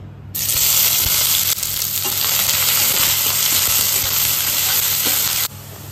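Onion dropped into hot mustard oil in a wok bursts into a loud, continuous sizzle that holds steady for about five seconds and then cuts off abruptly, with no talking.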